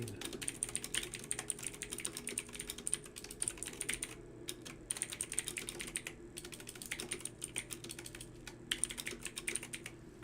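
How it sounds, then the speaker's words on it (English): Rapid keystrokes clatter on a computer keyboard, close and fairly quiet, in uneven bursts with short pauses over about ten seconds. "I'm just typing something real quick in my other window."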